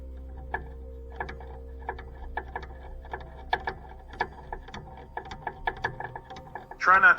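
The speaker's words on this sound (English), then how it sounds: "Using a 1/4 inch drive ratchet helps a lot." A 1/4 inch drive ratchet turns a throttle-control nut on a Scag mower, giving a steady run of small, close clicks over a low background hum, with a brief louder rustle at the end.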